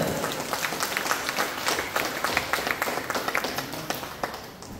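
A crowd at an office opening ceremony in Ramgarh gives loud applause to welcome a guest, vigorous, close clapping with distinct rhythmic beats running throughout.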